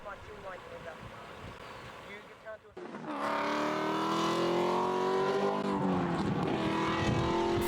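A V6 Ford Capri rally car on a special stage bursts in loud and close, its engine revving hard through the gears and howling as it passes, after quieter background sound with a voice.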